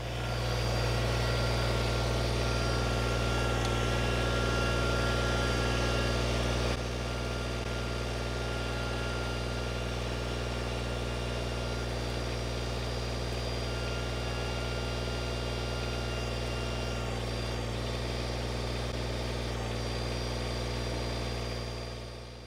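A Kubota BX25D compact tractor engine runs steadily at a low idle-like drone straddling a ditch, loud and close, with the tone dropping slightly in level partway through and holding constant to the end.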